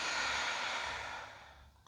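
A soft, steady exhale during a slow yoga neck stretch with the head turning to the right, breathy and quiet, fading gradually over about two seconds.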